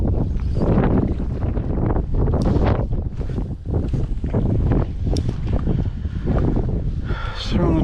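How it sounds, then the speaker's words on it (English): Strong wind buffeting a microphone on a lake during winter kayak fishing, loud rumbling gusts that rise and fall continuously, with faint lapping water underneath. "You probably can't even hear me because the wind's blowing so well again."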